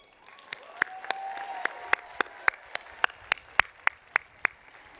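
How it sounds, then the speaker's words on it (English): Graduates at the Fairfield University commencement applaud their faculty. Rhythmic, evenly spaced claps sound loud and close against a faint crowd, and a brief sustained tone runs underneath early on. "please rise and acknowledge with applause your appreciation for your faculty as teachers, advisors, and mentors"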